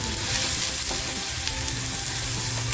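Ginger, garlic, coriander and chilli paste sizzles loudly in a pan with prawns, a steady dense frying hiss that runs the whole time with no talking.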